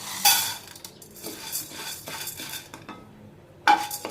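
Chana dal roasting in a pan for idli podi is stirred with a spoon. Irregular metallic scrapes and clinks sound close by, with two sharper knocks against the pan and only a faint sizzle underneath.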